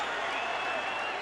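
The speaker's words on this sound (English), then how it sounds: "Vargas has the crowd on its feet" A boxing crowd at the 2007 Mayorga vs Vargas fight roars and applauds in a dense, steady wash of cheering, loud and continuous, with a commentator's voice faintly mixed in.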